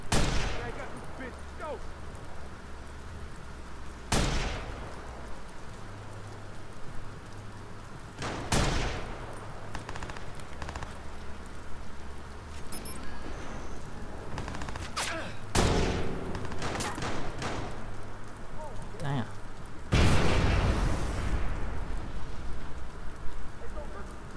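Sharp gunshots in the video game Watch Dogs ring out as isolated loud bursts every few seconds over a steady rain-like background, with talking between the shots.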